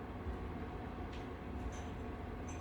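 A night train rolls through the snowy Alps, its wheels producing a low, continuous rumble and clatter that stays faint and even throughout.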